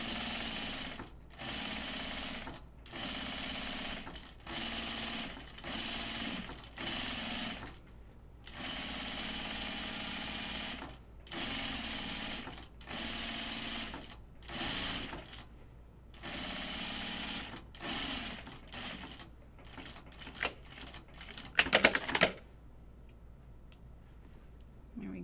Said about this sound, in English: I'm gonna edge stitch the perimeter.